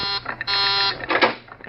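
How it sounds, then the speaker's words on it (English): A warning buzzer in a radio drama drones loudly and steadily, briefly cutting out and then resuming, with no talk over it. "That's the warning buzzer. It means that someone's coming out."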